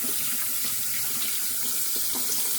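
Tap water runs steadily into a sink, rinsing a shaving brush; a continuous close splashing flow with no voices.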